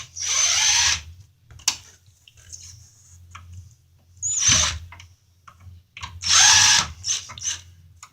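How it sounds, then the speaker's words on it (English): A power drill backs screws out during a service repair: three loud, close whirring bursts with quieter clicks and handling sounds between them, and no talk. "We'll back these screws out."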